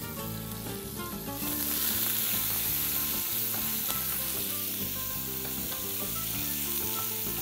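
Chopped onions land in hot oil alongside bay leaves and fry in a pan with a loud, continuous close sizzle as they are stirred, set against steady background music.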